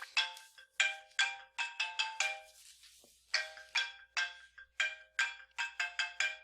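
A phone ringtone rings repeatedly during a classroom lecture, a bright electronic melody of short rhythmic chirps in bursts with a brief pause midway, fairly close and alone without talk.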